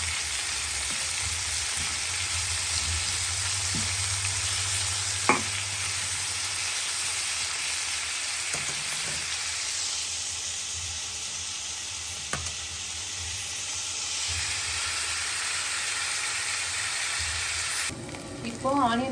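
Chopped onions sautéing in a pan for urad dal onion chutney, a continuous close sizzle with occasional stirring scrapes and clinks, no talking.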